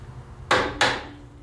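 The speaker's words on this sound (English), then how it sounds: "Hammer the arm down on." Two sharp metal hammer blows, about a third of a second apart, drive the arm onto a Ford tractor's wide front row-crop axle. Each strike rings briefly and fades into a quiet workshop background.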